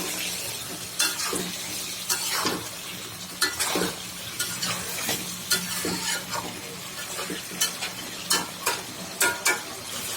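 Chicken pieces and fresh bottle gourd sautéed and stirred in a pan, with steady frying sizzle and repeated scraping strokes of a spatula against the pan, close and fairly loud, with no talking.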